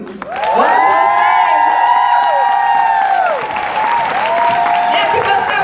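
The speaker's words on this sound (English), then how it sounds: "I want you guys to give a big round of applause" Loud applause and cheering from a large crowd at a MegaFest stage event, with whoops and shouted voices over the clapping as a guest walks on.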